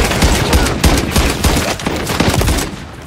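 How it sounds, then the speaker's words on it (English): Sustained automatic gunfire from an enemy player in Modern Warfare 3 Search & Destroy, loud and dense, with rapid overlapping shots filling the whole stretch. "the guy was shooting me"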